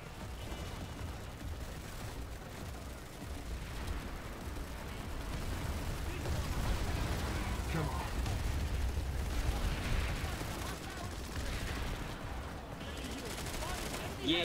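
Steady sci-fi battle din from Planetside 2, with continuous gunfire and grenade blasts rumbling together into a dense, loud wash across the whole stretch, players talking under it.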